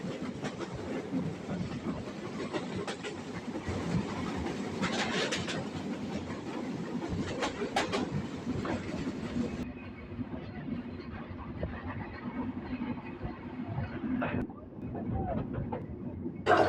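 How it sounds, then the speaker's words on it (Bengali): A passenger train rolls into platform 1 of Kotchandpur railway station in Bangladesh, heard from on board as a continuous rumble with faint clicking of the wheels and wind buffeting the microphone. "দেখতে দেখতে আমাদের ট্রেনটি কোচ্ছাদপুর রেল স্টেশনে 1 নম্বর প্ল্যাটফর্মে প্রবেশ করলো"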